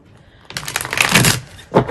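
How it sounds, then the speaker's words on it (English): Tarot cards are shuffled by hand close up: a soft rustle builds into dense, crackling riffle bursts, with a final quick flutter of cards at the end. "Just going to give a couple more shuffles and then we'll get into the cards."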